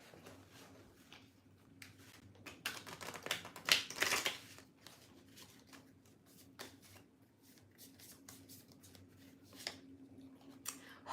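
A deck of oracle cards riffled and shuffled close by, bursts of rapid papery flutter with a louder flurry in the middle, otherwise quiet.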